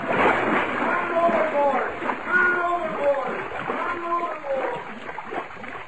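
A man tumbles overboard from a ship's rail into the sea, water splashing and sloshing repeatedly around him, close and busy, while people shout over the churning water.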